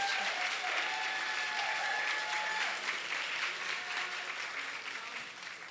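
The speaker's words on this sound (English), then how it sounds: "We want to give a big round of applause to Giovanna Shaw." An audience at a women's empowerment luncheon applauds with dense, steady clapping that gradually fades a little toward the end, heard from within the room.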